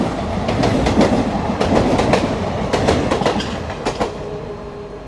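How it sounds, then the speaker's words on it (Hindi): The Parashuram Express runs between Mangalore and Trivandrum and rolls past on nearby tracks. A steady roar of wheels and rails fills the scene, with repeated clickety-clack beats as each wagon passes. No one speaks. "परशुराम एक्सप्रेस ट्रेन से बढ़िया ट्रैक साउंड आ रहा था यहाँ पे"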